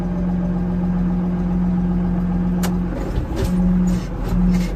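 Case IH 2594 tractor engine pulling in second gear, a steady low diesel drone with a humming tone that dips and surges slightly, with a few clanks near the end.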